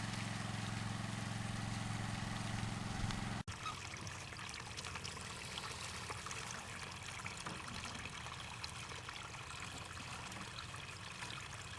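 Material pours steadily into a low gold mining cleanup sluice at a Nome gold mine, a continuous rushing, trickling wash of water and sediment with a brief break partway through and no talk.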